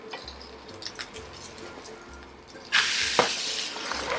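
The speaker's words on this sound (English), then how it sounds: "let me just pour some oil on top for the second half part of frying" Seafood pajeon, a savory Korean pancake, frying in oil in a pan: quiet crackles and drips at first, then a sudden loud, steady sizzle as more oil is poured on top.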